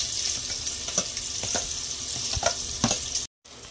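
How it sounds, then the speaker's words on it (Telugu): Onion pieces fry in hot oil with a bright, continuous close sizzle and a few louder spatters, heard alone before a brief cut to silence near the end. "ఆయిల్ వేడాక ఉల్లిపాయ ముక్కలు వేసుకోవాలి. వేస్తే బాగా వేయించుకోవాలి."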